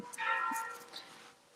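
A church bell chimes 4 p.m. at a distance, one resonant strike slowly fading into soft outdoor ambience.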